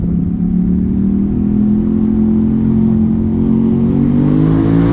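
A Highlifter 850 engine running Big Gun's recommended tune holds a loud, steady rumbling rev that climbs slowly in pitch, close up and alone with no talking.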